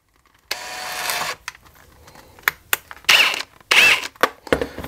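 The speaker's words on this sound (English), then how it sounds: "let's go ahead and get these retention holes drilled out" A drill bores retention holes through a leather holster in short, close bursts: one longer whirring run, then several brief, sharp stops and starts with quiet gaps between them.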